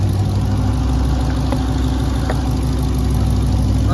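A car engine runs steadily with a continuous rough, droning hum, close and loud throughout, from a motor suspected to be blown.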